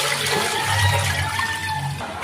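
Tap water pours steadily into a pot that will hold beef tongue for boiling, a continuous close splashing and filling sound with a low hum beneath and no talk.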